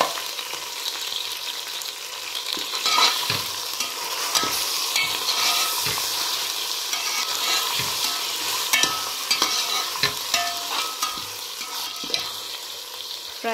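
Mixed vegetables frying with onion in a pan, a steady close sizzle punctuated by regular spoon scrapes and taps as they are stirred, no voices.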